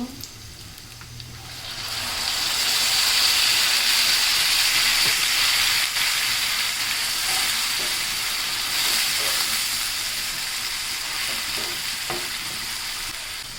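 Water poured into a pan of fried dried fish and garlic bursts into a loud, sustained hissing sizzle that swells after a quieter start, with occasional stirring clinks; no talking.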